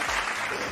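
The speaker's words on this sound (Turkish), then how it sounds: "burada alkışlar çıksın" Brief burst of audience applause during a Turkish comedy Q&A show, a dense, steady patter of clapping filling the short moment at moderate loudness.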